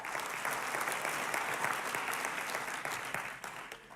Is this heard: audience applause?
yes